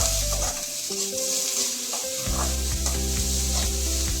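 Onions sautéing in a pan for a Kerala-style vegetable kurma, a steady close sizzle with repeated scraping and stirring strokes throughout, no talk.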